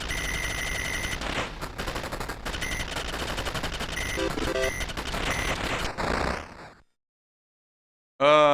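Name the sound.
gunfire from the video game 1942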